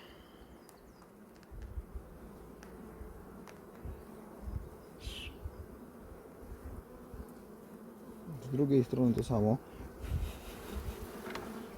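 Many honeybees buzz steadily and close up on a hive frame, a dense droning hum, and someone speaks briefly near the end.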